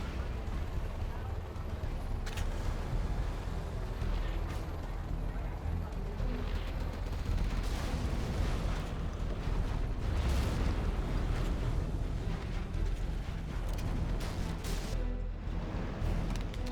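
Carpet bombing and artillery shells strike a Scud launcher in C&C Generals Zero Hour, with a continuous roar of overlapping blasts and booms under an excited commentator's voice throughout.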